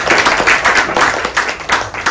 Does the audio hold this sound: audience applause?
yes